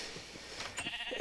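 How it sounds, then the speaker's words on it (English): Sheep penned on a wool farm in a block-building video game bleat a few times, soft, short calls spread over a quiet background. "It's just a bunch of sheep in a pen."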